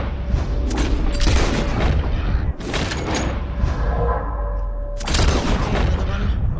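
Heavy rifle gunshots in Red Dead Redemption 2 during a bison hunt: three loud booming shots a few seconds apart, each with a rolling echo tail over busy game ambience.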